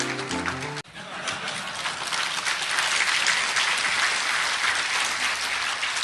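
An audience breaks into loud, dense applause closing a 2012 ceremony marking the fifth anniversary of the October 4 inter-Korean summit declaration; after a short spoken moment the clapping swells and holds steady to the end.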